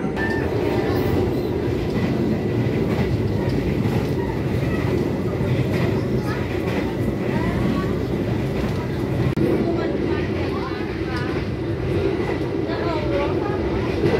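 The Argo Cheribon passenger train from Cirebon rumbles steadily along the rails, heard from aboard, with a continuous low roar and faint rattling, while someone speaks over it.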